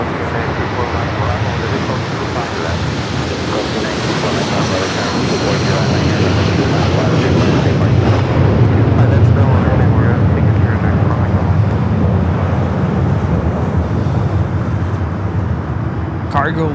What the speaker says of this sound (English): Cargo Lux 17 Golf taking off to Prestwick on the 747-400 freighter